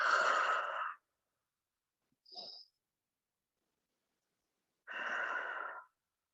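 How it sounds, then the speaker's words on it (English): Slow yoga breathing during a flow class in child's pose: a long audible breath, a brief faint sniff, then another long breath, close and quiet with silence between. "Inhale and exhale."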